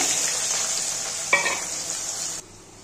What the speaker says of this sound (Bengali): দেখো তেলটা গরম হয়ে গেছে, এবার আমি পেঁয়াজগুলো দিয়ে দেব।